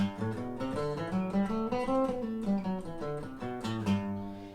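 Guitar plays a bouncy swung melody in a major scale, notes grouped in uneven long-short pairs, ringing steadily at moderate volume with no voices.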